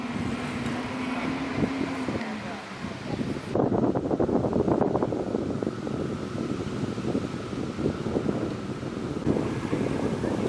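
Wind roars into the microphone on a Toronto beach along Lake Ontario, with waves washing against the shore beneath it, steady and close throughout with no voices.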